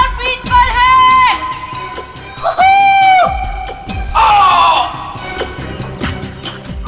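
A man screams in three loud, drawn-out bursts while falling through the air after jumping from a plane at 5000 feet, with rough wind-like noise between the cries, in a CID TV crime drama.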